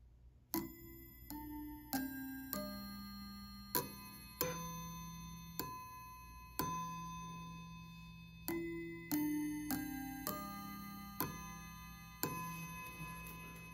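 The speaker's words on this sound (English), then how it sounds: "test the sound of this chime bar." A KS750 chime bar rings about a dozen struck notes, each a bright metallic strike with a long decaying tone, spaced roughly a second apart in a quiet room, sounding alone at moderate to soft volume.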